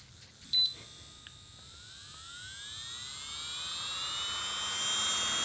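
An electric nail drill spins up to high speed, a thin whining tone rising steadily in pitch and staying close and quiet after a brief click at the start, with no talk.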